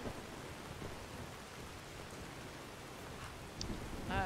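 Rain and thunder in the video game Skyrim, a dense steady hiss of rainfall with a low rumbling undertone throughout, with a few faint higher sounds near the end.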